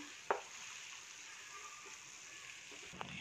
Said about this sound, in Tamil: இப்போ நம்ம செஞ்சு வச்சுருக்கிற இந்த மடக்கை ஒன்று நான் போட்டு ஃப்ரை பண்ணி எடுத்துக்கலாம்.